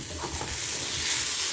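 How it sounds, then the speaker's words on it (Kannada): Tomatoes fry in a pan for fenugreek leaf chutney, a steady close hiss of sizzling oil with soft scraping strokes of a spoon stirring through them, no voices. "ಇದು ಚೆಂದಾಗಿ ಟೊಮಾಟೊ ಎಲ್ಲ ಮೆತ್ತಗಾಗಷ್ಟು ಹುರ್ಕೋಬೇಕು."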